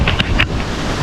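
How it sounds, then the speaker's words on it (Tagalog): Strong wind roars steadily against the microphone, with a few short gusting bursts over a rumbling, surf-like background. "Yun o, lakas ng hangin o."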